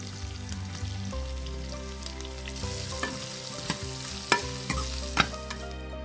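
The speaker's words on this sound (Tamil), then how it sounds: "இந்த ஸ்டேஜ்ல வெண்டைக்காய ஆட் பண்ணி நல்லா வதக்கிக்கலாம்." Okra sautéing in hot oil in a pan while being stirred, a steady close sizzle with a series of sharp spatula scrapes and taps across it, and no voices.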